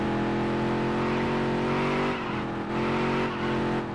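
Race car engine in the Dirt to Daytona video game on a road course, a steady loud drone with revs rising and falling and a brief dip midway, continuous throughout with no talking.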